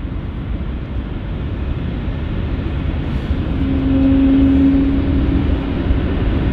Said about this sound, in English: Double departure of the A220s